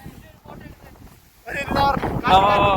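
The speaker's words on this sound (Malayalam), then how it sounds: "കാറ്റ് ഗൈസ് നമുക്ക് നിക്കാൻ പറ്റില്ല, എണീറ്റ് നിന്ന് അങ്ങ് വീഴും" Strong wind on top of Chathuranga Para hill, near its wind turbines, rumbling against the microphone and swelling into loud gusts halfway through while a person talks.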